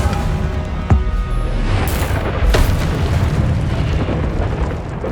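The Confringo fire spell exploding in Hogwarts Legacy, a loud, dense booming blast with heavy low rumble and a couple of sharp bursts in quick succession.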